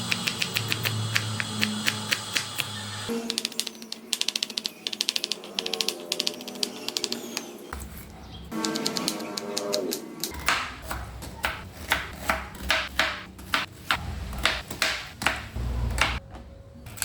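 Knife chopping garlic, onion and tomato for sinigang on a cutting board, a fast run of sharp, close taps in uneven bursts with short pauses between.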